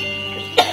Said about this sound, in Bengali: খুব কাশি হয়েছে